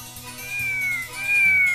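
A cat meows in a few long, drawn-out, rising-and-falling calls, clear and close, with a steady musical backing underneath.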